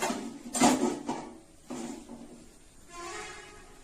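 Metal cookware clanks and scrapes a few times as a large pot is moved around, with short bursts of handling noise and quieter pauses between.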